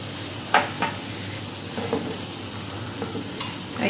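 A butter sauce with Cajun seasoning, cooked for butter shrimp, sizzles steadily in a pan with a few soft stirring scrapes and no talk.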